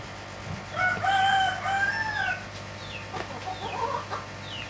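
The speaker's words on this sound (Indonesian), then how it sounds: "Gas ayamnya super galak banget ya." A rooster on a home livestock farm crows in a drawn-out call, repeated after a short pause, heard at moderate distance over a steady low background hum.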